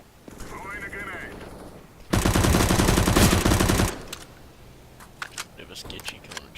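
Gunfire in a video game: a loud burst of rapid automatic fire lasting almost two seconds, followed by scattered sharp shots and clicks. A voice talks before the burst.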